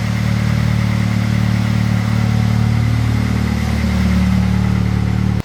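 A Ford Fusion 2.3L engine idles with its exhaust valve open, a steady, loud low rumble and throaty exhaust drone, holding constant before cutting off abruptly at the end.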